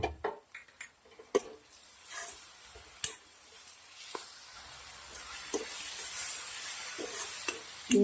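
Amaranth greens cooking in a pan on a gas stove, with steady sizzling that builds over time and sharp clinks of a spoon stirring against the pan near the start.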